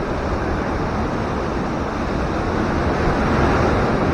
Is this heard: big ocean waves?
yes